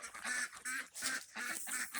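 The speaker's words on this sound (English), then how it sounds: "now I'm going to let those ducks out" Ducks quacking close by during morning chores before being let out, a run of four or five loud nasal quacks in quick succession with no voices.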